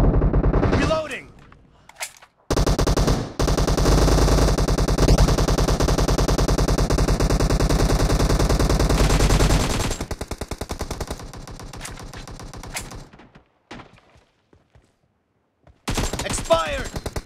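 Automatic gunfire in PUBG Mobile, with long rapid machine-gun bursts, loud and close, broken by short pauses and scattered single shots, then another burst at the end.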